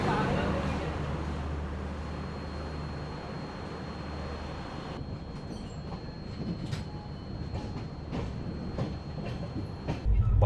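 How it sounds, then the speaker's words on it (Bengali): The 12839 Howrah–Chennai Mail pulls out of Vizianagaram station, heard from inside the coach as a steady, loud rolling rumble with scattered wheel clicks and knocks. Faint voices murmur in the background. "বিজয়নগরম স্টেশন ট্রেন ছেড়ে দিল"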